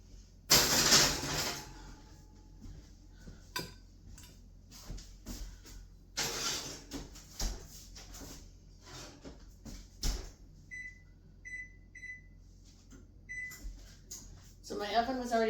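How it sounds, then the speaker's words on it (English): A pan of risen sourdough cinnamon buns is slid into a preheated oven, with two loud bursts of clattering metal and an oven door, followed by softer knocks and a few short electronic beeps from the oven. "I'm going to now throw them into the oven here"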